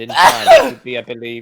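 A sharp sneeze bursts out near the microphone amid a tabletop role-playing game session, followed by a person speaking.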